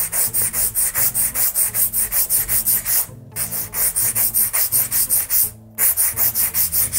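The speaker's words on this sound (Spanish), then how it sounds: "vamos a comenzar a limar los laterales con mi lima Deken" A Deken 150-grit file rasps along the sides of an acrylic nail in quick, steady back-and-forth strokes, close and loud, with two brief pauses between runs.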